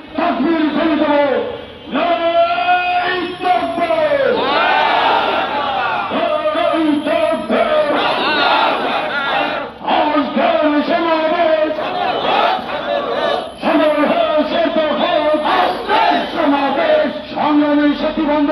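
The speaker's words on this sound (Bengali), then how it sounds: "মিছিলকে স্বাগত জানানোর জন্য আমরা সকলেই তাকবীর ধ্বনি দেব।" A large crowd at an outdoor political rally chants the takbir in rhythmic, repeated loud call-and-response bursts, voices massed and close, filling the space continuously.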